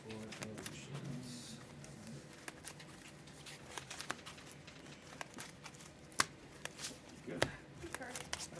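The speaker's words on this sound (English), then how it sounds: "Time to shuffle." A deck of trading cards is shuffled during a card game, with soft riffling patters and sharp card snaps scattered through, faint and close, while players talk quietly in the background.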